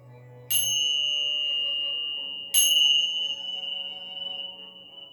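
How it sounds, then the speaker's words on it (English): Meditation bells ring during a hatha yoga session, two clear metallic strikes about two seconds apart, each with a bright attack and a long sustained shimmering tone that decays slowly over a faint low hum. "Let your mind, your body, and your soul absorb the vibrations of the bells"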